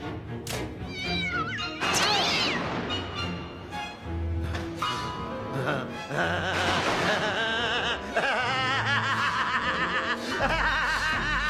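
A cartoon cat meows and screeches in loud, repeated yowls amid a busy animated soundtrack, with snickering laughter and music mixed throughout.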